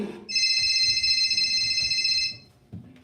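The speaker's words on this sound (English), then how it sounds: "the phone is ringing" During a live theatre performance, a telephone rings once in a single sustained electronic trill of about two seconds, loud and close, with faint stage noise around it.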